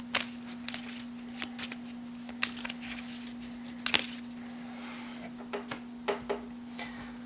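Cards from the Goblivion board game are shuffled by hand at a table, making a series of brief crisp riffling snaps and flicks spaced irregularly, fairly close, over a low steady hum.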